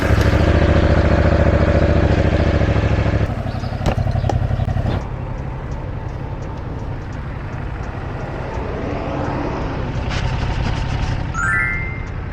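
A motorcycle engine runs steadily with a loud, droning hum at first, then drops to a lower, rougher idle-like rumble, with some clattering and a few brief chirping tones near the end.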